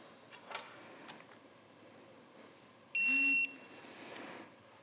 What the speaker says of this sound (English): I'm gonna torque this to 14 foot-pounds.